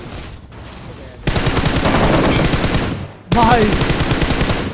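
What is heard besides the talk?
M762 gunfire shooting a buggy tyre, from a video game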